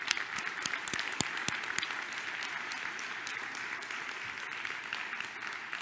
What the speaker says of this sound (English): So I want to give a great round of applause